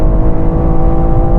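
A rear-wheel-drive daily car replacing a BMW M3 accelerates hard on a quarter-mile run, its engine a loud, steady, continuous drone close up without pause or shift.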